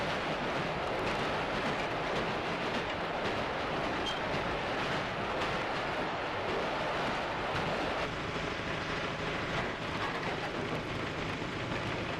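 A London Underground Bakerloo line train near Kenton produces a dense, continuous broadband roar of wheels and motors, evenly loud throughout with no talking.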